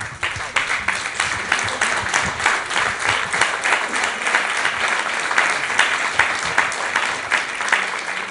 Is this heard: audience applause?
yes